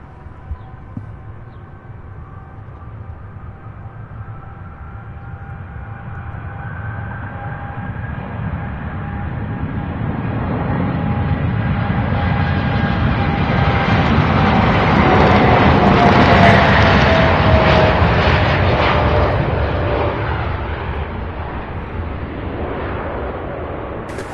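An Airbus A300-600 airliner taxis at Louisville International Airport, a steady jet engine whine and broad rumble that swells louder toward the middle and then eases slightly, with a rising tonal whistle over the roar.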